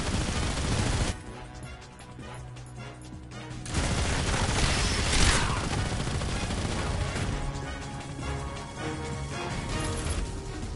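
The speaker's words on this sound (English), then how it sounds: "Open fire!" Gunfire in the Metal Gear Solid Delta video game keeps up a dense, continuous barrage of shots and crashes throughout, with a brief quieter dip early on.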